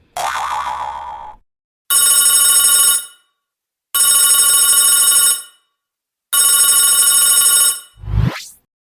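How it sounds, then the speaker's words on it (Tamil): A telephone rings in three loud, even bursts of bright trilling bells separated by short silences, preceded by a springy boing-like tone and followed by a brief clunk. "டேவிட் தம்பி, உனக்கு தான் ஃபோன்"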